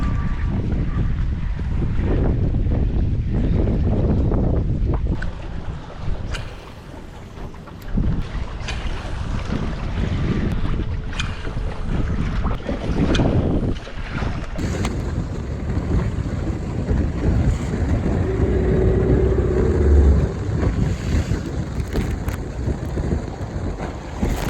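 Strong wind buffets over a jon boat on open water during a hurricane, a loud continuous roar with microphone rumble and gusts, water sloshing beneath and a brief hum near the end.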